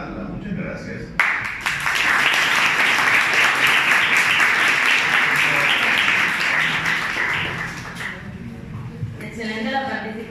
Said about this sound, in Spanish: la participación del doctor Josip Kundrick, para quien reitero el aplauso